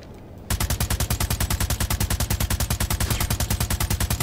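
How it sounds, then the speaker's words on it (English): Automatic gunfire in the Planetside 2 video game, a loud, rapid, steady stream of shots that starts abruptly after a brief quiet moment and keeps hammering without pause. "See somebody shooting at you."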